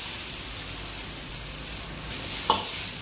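Beef and broccoli stir-frying in a pan, a steady hissing sizzle throughout with a brief clink of a utensil near the end.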